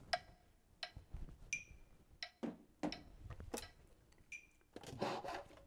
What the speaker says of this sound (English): get yourself a metronome and set it to 86 and play 16th notes at 86